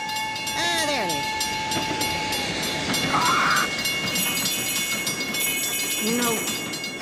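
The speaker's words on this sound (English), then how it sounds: "another train will be by in 3 seconds" A cartoon train rolls past at a crossing, a steady rumble of rail noise running throughout with a brief horn or whistle blast midway and a squealing tone near the end, while cartoon voices talk over it.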